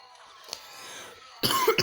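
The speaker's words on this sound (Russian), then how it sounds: "И снова кашель." A couple of sharp, close coughs burst out after a stretch of quiet room noise.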